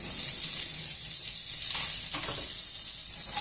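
Onions fry in a pan for palak rice, giving a steady, fairly loud sizzling hiss with light stirring scrapes and no talking.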